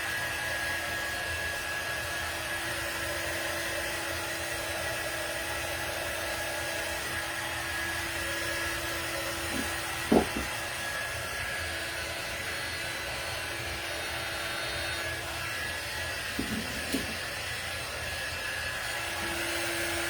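A hair dryer blows continuously and steadily for the whole stretch while drying a painted Dollar Tree fall oval craft sign, its close, even whoosh broken only by a couple of brief knocks.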